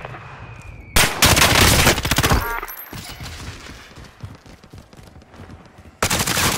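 Gunfire in the video game Warzone: long, loud bursts of rapid automatic fire, a quieter stretch of scattered shots, then another heavy burst, all close and dominant.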